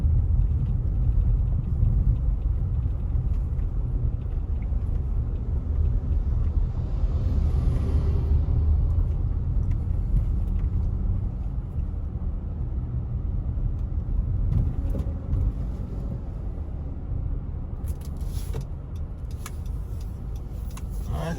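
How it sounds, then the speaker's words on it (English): A water truck rumbles past on a storm-damaged Montego Bay bypass road after Hurricane Melissa, a continuous low engine and tire drone lasting throughout with no voices, steady and fairly loud as if heard from a nearby vehicle. "There's a water truck entering this section here."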